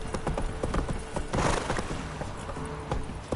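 Quick hoofbeats of Roach, a horse galloping in the video game The Witcher 3, sound in a rapid clip-clop rhythm, fairly close, over a busy game soundscape.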